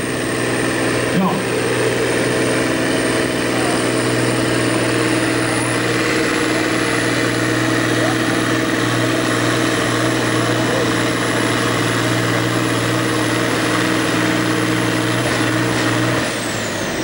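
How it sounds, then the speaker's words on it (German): An East German tractor engine drones steadily at close range at a tractor pulling event in Erkelenz-Holzweiler, Germany, in 2000, with a rough low rumble and a high whine held on top. "das ist ein Traktor aus der ehemaligen DDR"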